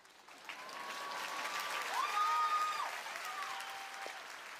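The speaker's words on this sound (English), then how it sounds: "How about another round of applause for everyone here that loves to clap?" Crowd applause at a 2006 stand-up comedy show, somewhat distant and soft, swelling up in the first seconds and holding steady, with a few whistles sliding over the clapping.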